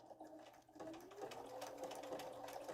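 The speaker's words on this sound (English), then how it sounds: "so it's going to be fast to sew the buckle down" A sewing machine stitches steadily along a straight seam to fasten a buckle down, its rapid mechanical whirr continuous and close for the whole stretch, with no talking.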